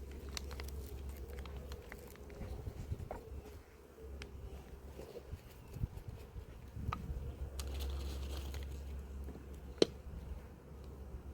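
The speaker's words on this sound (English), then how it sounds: "That blooming wasp, how quickly they smell it." Wasps buzz around a beehive at an apiary during a colony inspection, a steady insect drone with close passes and occasional rustling handling noises beneath it.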